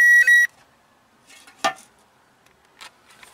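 A power probe on a car circuit gives a short, sharp electronic beep at the start while reading battery power. Faint clicks and handling noises follow in an otherwise quiet space.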